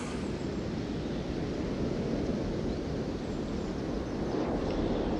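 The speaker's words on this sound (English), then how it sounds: "the breeze and the sound of the waves never seem to rest" Steady ocean surf and breeze in a seaside courtyard area of the video game Honkai Star Rail, a constant broadband wash of waves with no distinct breaks, moderately loud and unbroken throughout.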